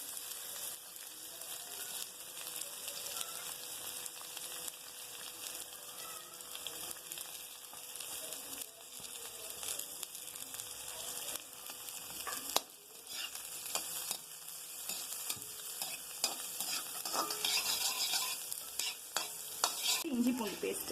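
Onion frying in a pan of spiced oil with kalpasi and a single clove, turned now and then with a spoon: a steady close sizzle with scraping stirs running throughout, growing louder toward the end, with no talking.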